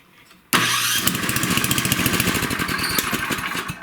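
A repaired Tecumseh snowblower engine catches abruptly after a brief quiet moment and runs with a loud, rapid, rhythmic putter close by for several seconds, with no talking.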